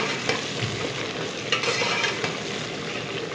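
Onions frying in oil with cumin seeds and black cardamom in a pan, turning golden for a kofta curry, a dense continuous close sizzle with occasional stirring clicks, no talking.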